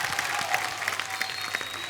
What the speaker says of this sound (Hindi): और जोरदार तालियां हो जाए एक बार हमारे तीनों मेहमानों के लिए